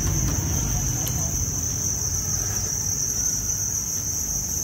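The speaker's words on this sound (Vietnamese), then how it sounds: "Đây là các thùng dế đang vào độ tuổi sinh sản." Crickets of breeding age chirp steadily in bins on a cricket farm, a dense, continuous high trill holding evenly throughout at close range, with no voices over it.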